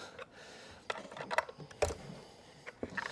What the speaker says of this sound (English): I'm going to continue holding the bar tip up while I snug the bar nuts up.